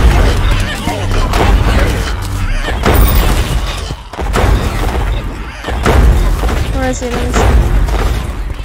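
Gunfire and booms in a Terraria boss fight against a dark mage, loud continuous bursts of shots and impacts, with a voice speaking briefly over the din.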